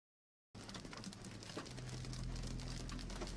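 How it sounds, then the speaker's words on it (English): Rain mixed with hail falls during a Texas storm near Clarendon, a steady, faint patter of drops and small impacts that starts abruptly after a brief silence and continues without talk. "It's not just raining, it's hailing."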